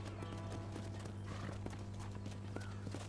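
Faint, steady clip-clop of horse hooves with a brief whinny in the video game Red Dead Redemption, set against a low constant hum.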